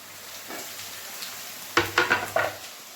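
Onions and mixed vegetables fry in hot oil in a pan for fried rice, a soft steady sizzle broken by several louder scraping stirs toward the end.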